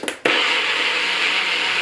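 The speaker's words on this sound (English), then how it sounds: "put it in a blender because you're going to mix it" Blender motor whirring loudly and steadily as it purées berry sauce for a New York cheesecake, kicking in after a brief start-up burst and running on without talk.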